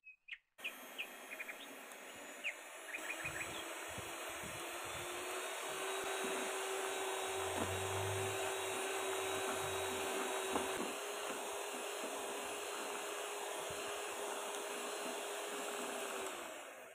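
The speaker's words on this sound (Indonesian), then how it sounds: "lalu kita mixer dengan kecepatan paling tinggi sampai rata ya" An electric mixer runs at its highest speed, beating ice cream batter with a steady, loud whirring drone that starts after a few clicks and continues unbroken, while faint bird chirps sound in the background.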